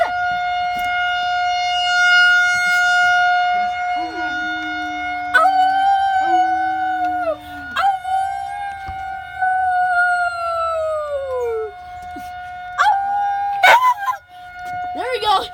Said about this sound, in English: this is my dog's reaction to the tornado siren